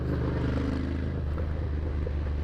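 Ducati Monster 797 motorcycle riding along, its engine a steady close droning rumble with a low harmonic hum that shifts slightly in pitch, heavy wind-blown noise throughout and no talking.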